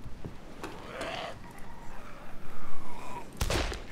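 A gunshot rings out in the survival game DayZ on the Sahrani map, a sharp single report near the end following quieter rustling game ambience, with a few soft breathy sounds earlier.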